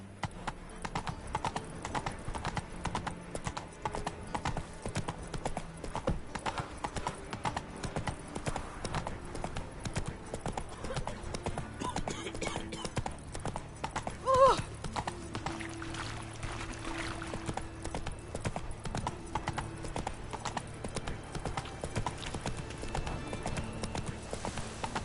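Roach, a horse in the video game The Witcher 3, clip-clops at a steady trotting rhythm for the whole stretch, with hoofbeats clear and close and a brief louder bump midway.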